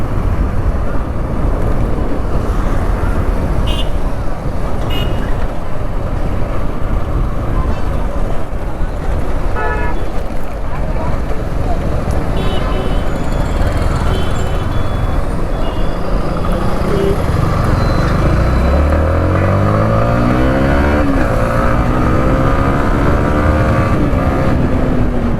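A Yamaha MT-15 V2 motorcycle rides through a turn, its engine mostly buried under loud, constant wind buffeting. Toward the end the engine note rises clearly as it revs up.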